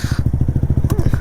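A KTM Duke 125 single-cylinder motorcycle engine idles close by with a rapid, even thumping pulse and a brief rattle partway through.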